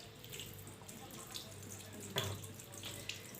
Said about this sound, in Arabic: وتحت الحنفيه ونغسل السمك بتاعنا.